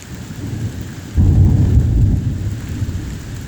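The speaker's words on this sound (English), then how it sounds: "Where's the thunder?" Thunder from a December thunderstorm in Connecticut rolls in as a loud, deep rumble that swells abruptly partway through and sustains to the end, with rain hissing steadily underneath.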